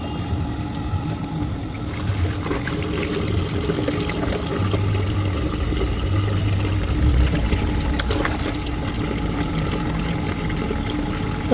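Water poured and splashing steadily while a pet is bathed, a continuous noisy wash of sound that swells a little in the middle, close by and with no talking.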